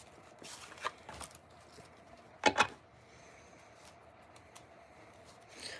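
Playing cards being shuffled by hand, faint and close, with two quick riffling bursts in the middle among soft handling noises in a quiet room.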